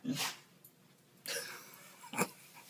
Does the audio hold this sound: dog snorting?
yes